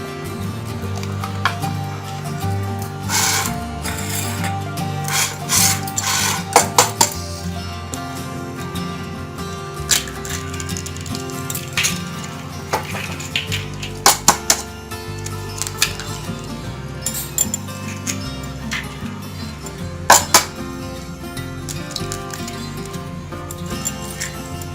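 Tomato, green chilli, red chilli powder, turmeric and salt being stirred together in a pan for a Hyderabadi street-style egg omelette; close, irregular knocks and scrapes of the utensil against the pan ring out over a steady low cooking hum.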